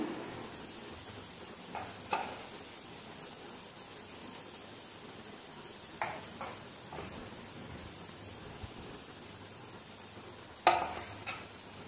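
Chicken curry with tomato simmering in a pan after chili powder goes in, a soft continuous sizzle with scattered scraping stirs of a spoon against the pan, a louder clatter near the end.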